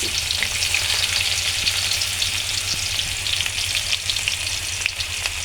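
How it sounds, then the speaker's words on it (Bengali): Chopped onion and green chili fry in hot oil with a steady, dense sizzle and crackle, close and loud, and an occasional light stir, with no voices. "আমি এখন পেঁয়াজ কুচি দিয়ে দেব সাবধানে দিতে হবে তেল গরম দিয়ে দেব কাঁচামরিচ"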